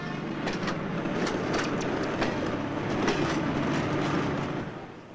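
A train rolls through a busy Central European station handling 1,000 trains a day, with a steady rumble and scattered clicks and clacks of wheels over rail joints, close and continuous.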